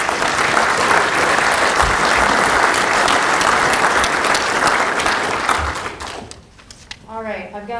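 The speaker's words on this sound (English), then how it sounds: "Join me in giving them a round of applause" An audience applauds loudly and steadily for several seconds before the clapping fades away and a voice begins.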